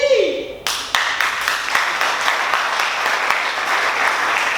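A studio audience at a French game show bursts into loud, sustained applause for a contestant, starting abruptly after a short musical sting and continuing as dense, steady clapping.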